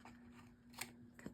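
Two quick snips of scissors cutting paper for a junk journal, close and crisp, heard alone over a faint steady hum.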